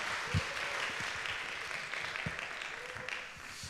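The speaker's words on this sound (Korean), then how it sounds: "우리 다시 한번 박수 보내주시면" A youth-service congregation in church gives steady, even applause that sounds a little distant and subdued, with a dense wash of many hands clapping together throughout.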